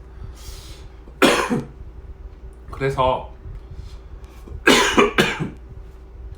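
A few sharp coughs break up a man's speech, with short talking passages between the bursts.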